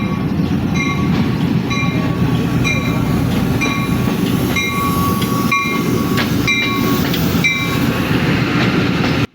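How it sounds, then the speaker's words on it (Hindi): Jaffar Express train pulling into Attock railway station, a steady loud rumble of rolling railcars with rhythmic wheel clatter and faint squeals throughout, no talking. "हमारी ट्रेन जाफ़र डाउन एक्सप्रेस जो है वो अटक रेलवे स्टेशन पर पहुंच चुकी है"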